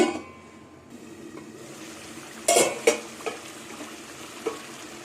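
Soaked moong dal stirred and fried in a pan, with a low steady sizzle and a few scraping, clinking spoon strokes against the metal, close by and without speech.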